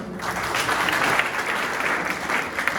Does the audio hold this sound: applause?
yes